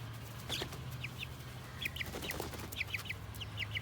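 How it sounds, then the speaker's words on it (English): Several backyard hens clucking over treats, with repeated short sharp clucks and chirps scattered across the span over a low steady background hum, fairly close and moderately quiet. "So you see Chicken fended off the babies, letting them know that the treat was not theirs."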